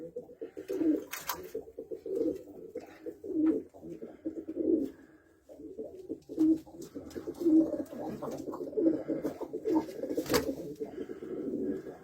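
Young pigeons in a coop coo repeatedly in soft, rhythmic throaty bursts, close and fairly quiet, with occasional flutters and no talk.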